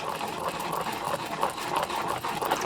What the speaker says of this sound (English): whisk this pretty thoroughly.